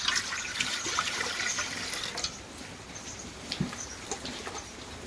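About 1.5 litres of water is poured into a metal cooking pot, giving a continuous splashing, trickling gurgle that fluctuates slightly and then eases toward a thinner flow.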